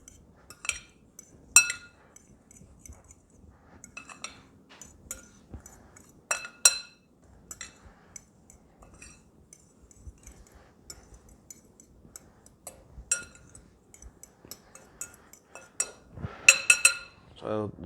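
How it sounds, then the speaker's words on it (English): Dry keto chocolate chip cookie ingredients are stirred in a bowl, heard as scattered sharp clinks and scrapes of a utensil against the bowl, some in quick clusters, close by in a quiet room. "Then I take the dry ingredients and I mix them up a little bit."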